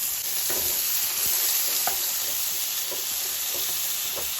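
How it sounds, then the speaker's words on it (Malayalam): Tomatoes sauté with fried onions in a pan, giving a close, even sizzle. Occasional soft stirring taps and scrapes come through, with one sharper knock at the end. No one speaks. "എന്നിട്ട് നല്ലപോലെ വഴറ്റിയെടുക്കാം"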